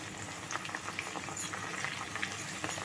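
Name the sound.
leaves frying in oil on low gas flame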